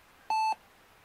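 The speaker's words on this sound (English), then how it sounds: "You can hear our beeping there." A Compaq Presario 1065 computer gives a single short electronic beep, clear and steady against a quiet background.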